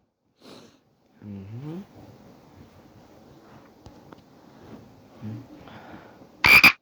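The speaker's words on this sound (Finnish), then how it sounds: "Oho, sammakkohan se siellä." A frog croaks in the Finnish video game Hertan Maailma: two short rattling croak bursts, one early and one later, over soft ambient game sound, ending with a sharp loud burst.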